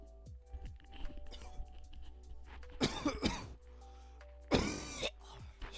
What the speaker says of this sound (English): I don't mean just cough in your guys' ear like that.